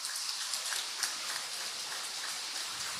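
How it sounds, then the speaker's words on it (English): Steady rain falls at an outdoor karting circuit during a podium ceremony, a soft continuous hiss with faint scattered patter of drops, no voices. "as the rain continues to fall here"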